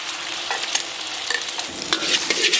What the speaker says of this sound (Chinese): 然后咱们把鸡蛋大火给它炒散。